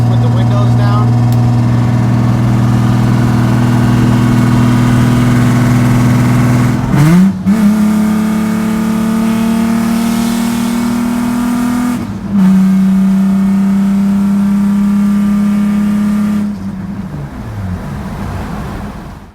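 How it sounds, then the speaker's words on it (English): A Nissan 300ZX engine drones loudly and steadily, then blips and revs sharply twice in a fifth-to-third downshift, exhaust roaring between shifts before easing off at the end. "I'm gonna do a 5th to 3rd downshift with the windows down"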